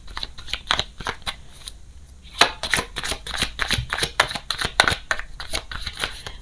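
Oracle cards are shuffled by hand in a quiet room, a string of quick papery riffles and snaps in an irregular rhythm, close and moderately loud, with no speech.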